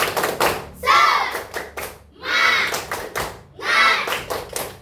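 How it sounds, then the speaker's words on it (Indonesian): Schoolchildren in a classroom perform the tepuk semangat clapping chant: three rhythmic bursts of group clapping mixed with children's chanting voices, loud and close, with short pauses between. "ayo kita tepuk semangat"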